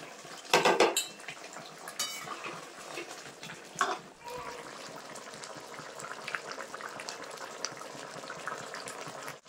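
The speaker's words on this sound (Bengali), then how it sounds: "এবার দিয়ে দেবো ভেজে রাখা মাছ।" Fried tilapia pieces go into a simmering aubergine curry in a pan, with loud clattering of utensil against pan in the first second and again near four seconds, then a steady low bubbling and stirring.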